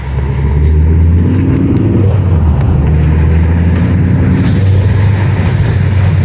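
A Mk 2 Ford Focus ST pulls away hard with a quick clutch, its engine note loud and close, climbing in pitch through the revs as the car accelerates, with no voices over it.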